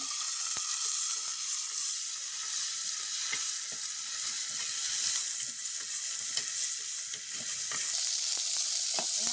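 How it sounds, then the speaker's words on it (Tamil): Onion, green chili and curry leaves sauté in a pan in a village kitchen, giving a loud, continuous sizzle with occasional scraping stirs and no talking. "வெங்காயம் பச்சை மிளகாய் கருவேப்பிலை எல்லாத்தையும் சேர்த்து கொள்வோம். எல்லாம் வதக்கிடுவோம்."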